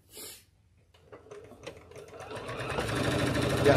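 Sewing machine stitching a pink quilt block, starting with a few soft clicks before the motor runs up into a steady, fast, rising mechanical whir.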